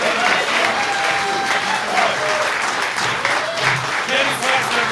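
An audience applauds loudly and continuously through the whole stretch, with talk and cheering voices mixed into the dense clapping.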